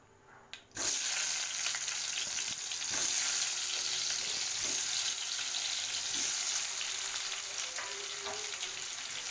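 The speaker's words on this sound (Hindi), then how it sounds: "तेल हमारा गर्म हो चुका है, तो उसमें मैं ऐड कर दूंगी आलू।" Potatoes hit hot refined oil in a kadai with a sudden burst, then settle into a loud, continuous close-up frying sizzle with occasional crackles and stirring scrapes.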